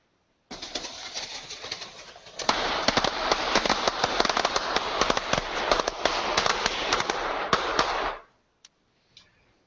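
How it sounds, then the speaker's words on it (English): A string of firecrackers placed inside model towers bursts into a dense, loud crackling barrage of rapid pops lasting several seconds, then stops abruptly with a few stray pops. "I put some firecrackers in some towers, set them up, and this is what happened."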